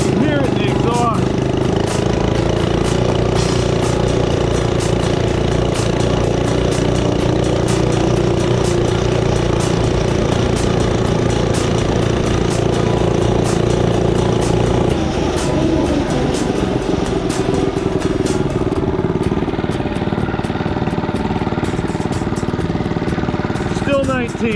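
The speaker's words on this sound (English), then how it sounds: "I think there's a little bit of timing in this. You can hear it in the exhaust." A Predator 79cc minibike engine with a newly installed flywheel runs steadily, its exhaust giving a close, loud, continuous drone with a slight shift in pitch partway through.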